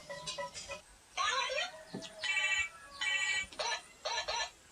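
A mobile phone rings with a bright electronic ringtone in repeated bursts, fairly close and moderately loud, and a voice briefly cuts in between the rings.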